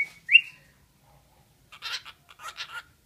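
A bird gives a couple of short, bright whistled notes, fairly close, followed by a stretch of quiet and then soft chattering sounds.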